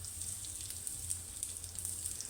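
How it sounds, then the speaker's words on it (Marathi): Mustard seeds and asafoetida sizzle in hot oil for a tempering, a faint steady hiss dotted with small scattered crackles and pops, heard alone. "मोहरी तडतडली की हिंग टाकते।"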